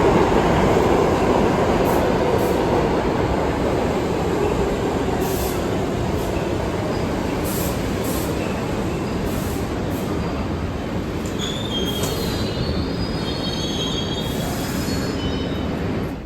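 A New York subway train rolls out of a tunnel onto a tall viaduct and pulls into 125th Street Station, a loud, steady rumble with repeated high wheel squeals and hissing.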